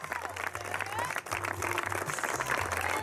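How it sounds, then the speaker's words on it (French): Audience applause at an outdoor Julien Alpes Métropole challenge event in Sassenage, a steady wash of clapping with a crowd murmur and a voice talking over it, sustained throughout. "Applaudissements pour notre Julien qui nous voit de tout là-haut"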